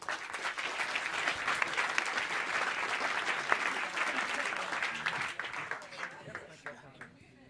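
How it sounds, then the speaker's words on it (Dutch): A live audience breaks into sustained, dense applause welcoming a guest at a Dutch storytelling evening about skating, loud and steady before tapering off at the end. "Even een applaus."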